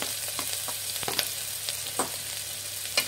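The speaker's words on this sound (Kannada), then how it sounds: "ಈರುಳ್ಳಿ ಫ್ರೈ ಮಾಡಿ" Finely chopped onions fry in hot oil for a hotel-style veg Kolhapuri gravy, giving a steady close sizzle with a few light utensil taps and stirring scrapes.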